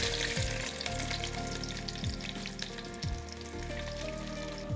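Onions fry in oil in a large pan with a loud, continuous sizzle that runs throughout, while music plays underneath.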